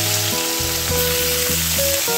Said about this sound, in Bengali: প্রথমে আমি এই তেলে আলু ভেজে নিচ্ছি